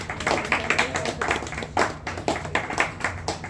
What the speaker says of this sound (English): Y'all give a hand of applause for our great hostess, Sylvia Cross.